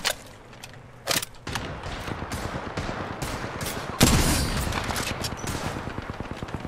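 Dense video game gunfire crackles in rapid automatic bursts, with a sharp heavier blast partway through and sustained shooting after it. The firing is close and loud, with no talk over it.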